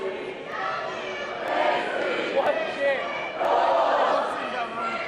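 A lively gym crowd at a junior girls volleyball city final against Campbell cheers and yells, rising in loud bursts over a steady murmur, with voices and shoe squeaks in the mix.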